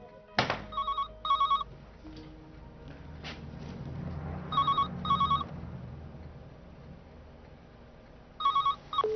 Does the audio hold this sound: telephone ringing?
yes